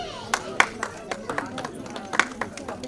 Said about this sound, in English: Come on guys, you can clap harder than this.